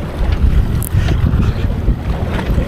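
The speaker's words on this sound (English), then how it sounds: "I apologize for all of the wind in this video too" Strong gusting wind buffets the microphone on a small fishing boat jigging for yellowtail kingfish at sea, a loud rumbling low roar that rises and falls, with no voices.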